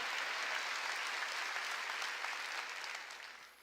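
Congregation at a church sermon applauding, a dense steady clatter of many hands that stays loud before fading toward the end.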